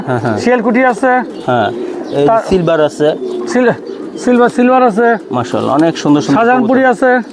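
Kaldom pigeons at a large pigeon farm coo loudly and continuously close by, with many overlapping throaty, rolling calls in quick succession and no talking.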